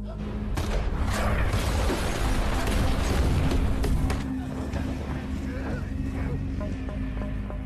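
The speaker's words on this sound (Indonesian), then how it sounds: "sniper yang tak melihat keberadaan si bapak, sehingga dia menembak tepat di tangki bahan bakar. Alhasil mobil itu pun meledak." A car blows up after a sniper's shot hits its fuel tank in a film scene, giving a loud, sustained roaring blast with crackling debris that rumbles on for several seconds.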